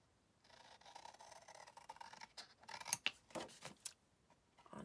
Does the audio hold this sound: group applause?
no